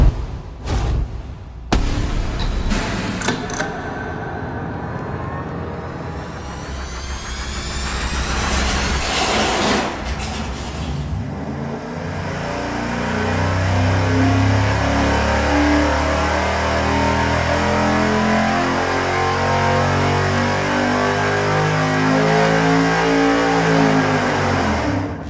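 A V8 engine on a dyno during a baseline test run, making about 615 horsepower, opens with a few sharp blips, then revs hard in a long, loud, rising pull that holds near full power until the end.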